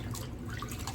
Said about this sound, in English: I just poured probably about a half a cup of vinegar in there